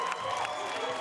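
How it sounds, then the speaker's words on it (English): A crowd of Vanguard fans in a Texas basketball gym cheers for the visiting Gainesville Tornadoes, a steady loud roar of many voices with shouting filling the whole short moment. "Half the crowd was assigned to cheer for Gainesville."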